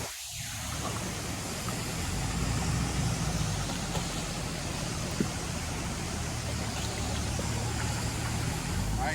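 Steady rushing water from a waterfall at an old mining site high on a mountain Jeep trail, a continuous broadband roar filling the scene with no pauses, fairly loud and close, with no talking over it.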